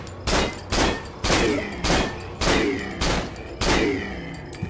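Gunfire in the horror video game Cry of Fear, about eight loud rifle shots spaced roughly half a second apart in a steady rhythm, each with a booming report, alone without talk.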